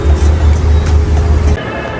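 Loud, close engine rumble from cars at the gate to old Jeddah, steady for about a second and a half before dropping to a quieter background hum of traffic.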